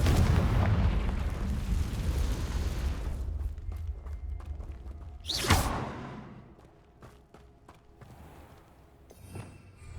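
In the Hogwarts Legacy video game, a Confringo blast spell fires: a rumbling, noisy stretch gives way to a sharp whooshing burst and boom midway, followed by quieter scattered impacts and a final small hit.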